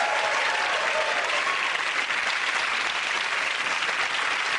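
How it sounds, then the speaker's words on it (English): A studio audience at a comedy panel show breaks into steady, dense applause that holds at an even level throughout, with no talk over it. "Give a round of applause."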